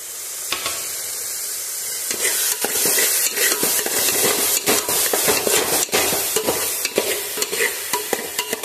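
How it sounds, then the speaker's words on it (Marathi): A spice mixture with coriander powder roasts in oil for fish curry, a loud close sizzle that swells after a quiet start, punctuated by rapid clinking spoon strikes against the pan, no speech. "हे सर्व मिश्रण तेल सुटेपर्यंत छान भाजून घ्यायचं."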